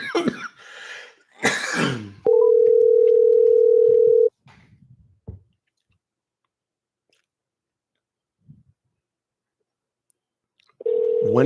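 A steady electronic telephone ring tone sounds for about two seconds after some coughing and chewing noises, then silence, and the tone returns briefly at the end.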